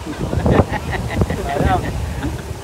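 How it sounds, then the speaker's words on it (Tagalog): Gusty wind roars across the microphone on a riverside in a village, rumbling low and steady, with people talking over it. "Ang lakas ng hangin."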